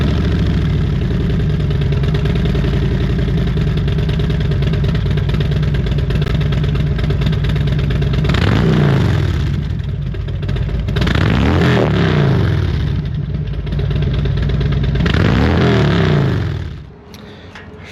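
Harley-Davidson motorcycles on a highway ride, with a loud continuous engine drone and wind rush, three rising-and-falling swells as the engine revs and eases, then a sudden drop in level at the end.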